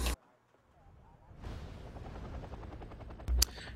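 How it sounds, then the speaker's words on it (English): Tank main gun firing at incoming missiles during a Wargame Red Dragon battle: a sharp blast at the start, then a rumbling stretch of rolling fire and a second loud crack near the end. "Even the main gun can fire at the missiles."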